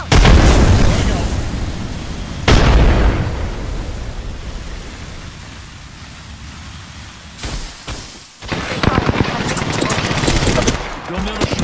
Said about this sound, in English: Throwing thermite grenade. Thermite out. Frag out.